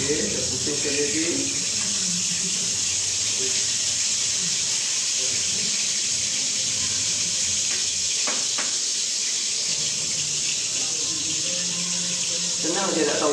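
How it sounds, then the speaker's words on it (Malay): Fish frying in hot oil over a low flame after being turned, a continuous loud bright sizzle with small crackles and pops, heard fairly close. "Dia dah pusing, dia masuk ke dalam minyak, dia akan bunyi kuat."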